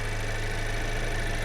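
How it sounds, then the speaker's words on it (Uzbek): The 2-litre engine of a Chery car runs at a steady idle, a close, even low rumble with a continuous hum and no voices. "2 litrli bahaybat motorimiz."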